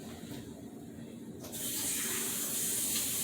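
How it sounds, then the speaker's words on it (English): Tap water runs steadily, then gushes louder and fuller about halfway through as a potato is washed under it at a kitchen sink, close and continuous with no talking. "You gotta always, everything you buy, you always gotta wash it off."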